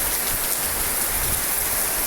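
Heavy rain pours down in a dense, even hiss of drops hitting surfaces, loud and continuous throughout with no voices.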